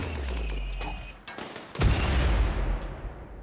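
Explosions and gunfire from the RimWorld video game, a dense burst of loud shots and booms that drops off briefly, then a heavy blast followed by sustained rumbling.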